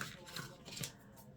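Scissors snip ribbon while decorating a decoupaged jar, giving a few close, quiet cutting and rustling sounds over about a second.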